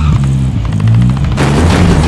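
A rocket blast in the game Warzone, a heavy, loud boom rumbling continuously through the whole short moment, with a sharper crack partway through.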